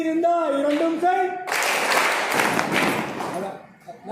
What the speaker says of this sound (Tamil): கரெக்டா முதல்ல கைத்தட்டுனா அப்புறம் கால் தட்டணும்.